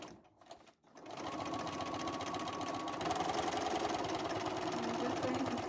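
Sewing machine stitching an upcycled bag, running close and steady with a continuous rhythmic motor hum after a brief quiet start.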